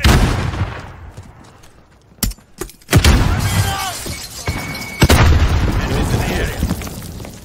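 Gunfire in a Call of Duty Modern Warfare gunfight, with several sharp, loud shots and bursts that ring out over ambient game noise, spaced irregularly across a few seconds.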